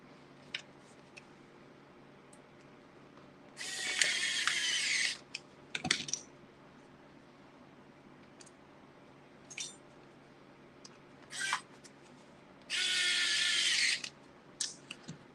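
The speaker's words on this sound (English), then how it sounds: "And let's install those 2 screws." Two short bursts of a small electric driver running in screws on a Tamiya CC-02 RC car chassis, each a steady high whir of about two seconds, with faint handling clicks and taps in between.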